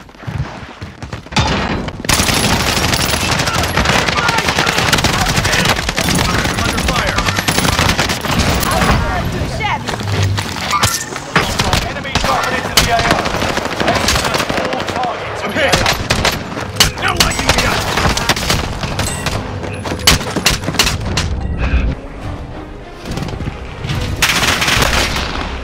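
Sustained gunfire in the Call of Duty Warzone video game, dense rapid automatic bursts and booms nearly nonstop and loud, with game voice lines mixed in.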